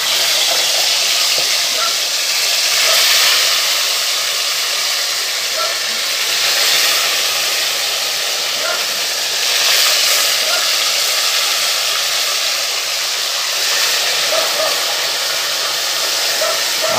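Fish fillets fry in hot oil over a steady fire, giving a loud, continuous sizzling hiss that swells slightly now and then and never lets up.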